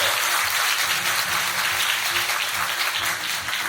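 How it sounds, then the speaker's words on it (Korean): An audience at an opening performance for the Incheon International Airport vision event applauds, a continuous wash of clapping at steady volume. "박수 주셔야 돼요 여기다."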